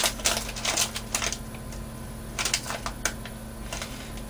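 Scissors snip through a paper scrap for a handmade journal pocket, a few quick close crisp cuts in short bursts separated by brief pauses, quiet and without talk.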